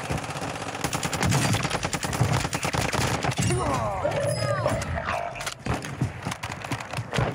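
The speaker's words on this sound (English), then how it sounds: "Heard somebody sniping over here." Gunfire in Warzone, a burst of rapid sharp shots followed by scattered single cracks amid battle noise, with a voice speaking briefly in the middle.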